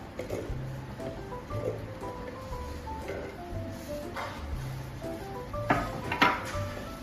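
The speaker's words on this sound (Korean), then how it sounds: "모든 재료가 손질이 되었다면 준비된 믹서기에 재료들을 다 넣겠습니다" Soft clatter and knocks of prepared juice ingredients dropped into a blender jar, a few taps and thumps spread irregularly over several seconds, close by with no talking.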